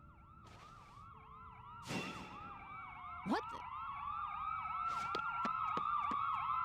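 Several ambulance sirens in the video game Trauma Team wail together in overlapping rising and falling sweeps, growing louder and closer, with a few sharp impact bursts and a brief spoken word.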